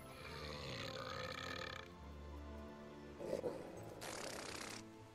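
A character in Fable 3 gives a drawn-out, guttural belch at moderate volume, then a short rough burst and a final airy noise.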